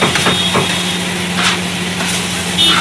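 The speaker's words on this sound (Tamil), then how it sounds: "நல்லா வதக்கிட்டு இருக்காரு." Kothu parotta frying with black pepper and chilli powder on a hot griddle: a steady loud sizzle and hiss with a few metallic scrapes and clanks, no speech.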